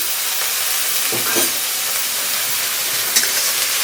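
Spice paste frying in a pan with a splash of water, for a tilapia and eggplant curry, giving a loud, steady hiss and sizzle with a few brief spatters and stirring scrapes, close by.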